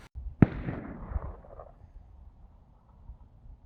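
A single loud gunshot goes off from a firearm at an outdoor recoil challenge, with a sharp crack followed by a rolling echo that fades over a couple of seconds.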